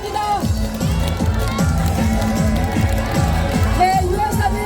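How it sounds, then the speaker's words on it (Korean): A large crowd roars and cheers at an outdoor presidential campaign rally in the Seoul Station plaza. The dense, steady wall of voices stays loud for the whole stretch, with shouted tones rising out of the din. "큰 함성과 박수 보내주시기 바랍니다"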